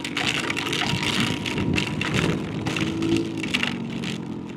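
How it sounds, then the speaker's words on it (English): Heavy rain pouring down while riding a scooter on a city street during a long-distance scooter cannonball ride, a dense roaring wash of water and wind noise mixed with the engine hum, loud and steady throughout. "These are tremendous quantities of water going down."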